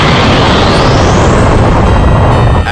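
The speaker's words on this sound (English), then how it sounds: "it makes contact and a massive explosion is seen" A massive explosion from the Dragon Ball Super anime as an attack strikes King Vegeta: a loud, dense, continuous roaring blast with deep rumble and hiss that holds steady throughout.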